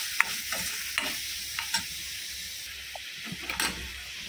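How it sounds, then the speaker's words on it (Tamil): Boiled fish with turmeric is stirred and sautéed in a pan: a soft continuous sizzle with scraping stirring strokes and a few sharper clinks close by, and no one speaking. "அந்த மீனையும் சேர்த்துடலாம். சேர்த்து மிக்ஸ் ஆக்குவோம்."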